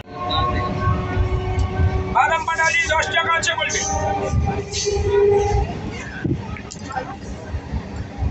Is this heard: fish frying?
no